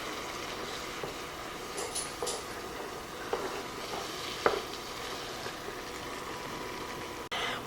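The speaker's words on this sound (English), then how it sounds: "We're going to mix this together for about 2 minutes until the butter is melted" Soft sizzling as flour is stirred into ground beef, peppers and onions frying in butter in a single pot, with occasional spoon scrapes and clinks over a steady background hiss.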